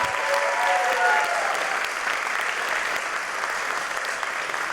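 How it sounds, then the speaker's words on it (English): A crowd claps for young elementary school writers at an evening reading event, a steady wash of applause that stays even for a few seconds before easing slightly. "Can we have another round of applause for all of our young writers tonight?"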